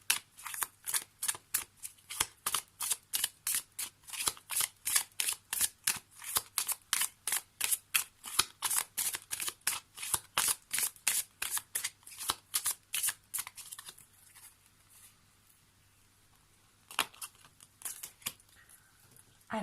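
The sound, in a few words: shuffling oracle cards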